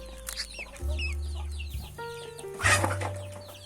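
Tiny newly hatched ducklings peep in rapid, high, thin chirps that repeat continuously over a low background hum.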